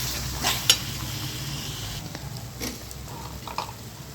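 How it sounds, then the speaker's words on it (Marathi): Masala sizzles gently in oil in a pan for black mutton curry, a soft continuous fizz broken by a few light clinks and stirring scrapes, close and fairly quiet. "मसाला आपला छान तळला गेला आहे. त्याला बाजूने मसाल्याने तेल पण सोडलं आहे."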